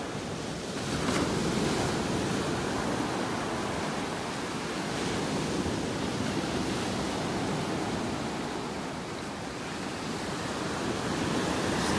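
Ocean waves wash onto a beach in North Naples, Florida, in a steady, broad surf roar with gentle swells in loudness and some wind buffeting the microphone, with no talking.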